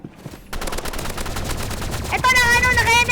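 Video game gunfire crackles in dense, overlapping rapid shots. It is loud and continuous, and bright tonal game effects join in partway through.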